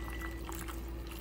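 Water poured steadily into a cooking pot while stuffed onions and grape leaves are made, a continuous close trickle with no break.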